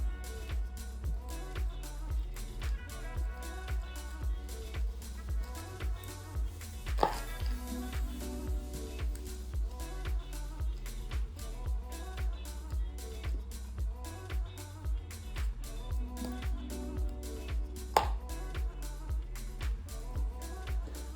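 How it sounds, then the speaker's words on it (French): Rapid, regular knife taps on a cutting board as pineapple is chopped into small pieces, a fast, even rhythm of close, crisp strikes continuing throughout. "Ça, c'est l'ananas. On va le couper en petits morceaux."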